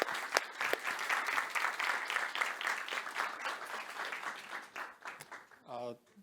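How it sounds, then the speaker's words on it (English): A conference audience applauds at the end of a talk, steady clapping that slowly thins out and fades, with a brief voice just after it ends. "give yourself a round of applause"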